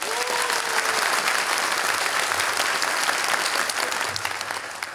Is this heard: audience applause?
yes